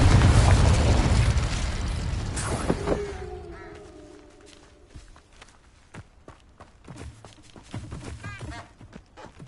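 Confringo spell blasts in the video game Hogwarts Legacy: a loud, booming burst of fiery explosion that decays over a couple of seconds, followed by scattered thumps, footsteps and smaller magical impacts in combat.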